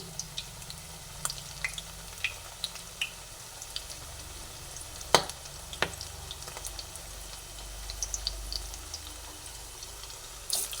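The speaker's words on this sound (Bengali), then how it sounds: "এইভাবে বা তেলের মধ্যে দিয়ে দিল সুন্দর করে ভেজে নিই" Egg and onion pakoras frying in hot oil, a continuous low sizzle with scattered sharp pops and crackles, close by and fairly quiet, with no talking.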